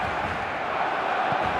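Steady roar of a large stadium crowd in the eFootball football game, a dense, continuous wash of distant chanting and cheering with no breaks or distinct voices.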